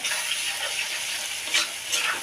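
Onion frying with salt in a pan makes a constant, close sizzle. Two short, brighter stirring scrapes rise out of the hiss near the end.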